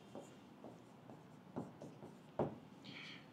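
Chalk or marker writing on a classroom board during an English grammar lesson, a few short scratchy strokes spaced irregularly, faint and close, with no talk over them.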